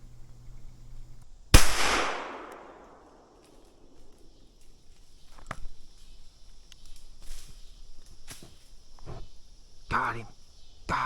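A single 12 gauge single-shot shotgun blast goes off outdoors during a squirrel hunt, one loud, close crack with a long fading echo, followed by quiet rustling and a few faint clicks.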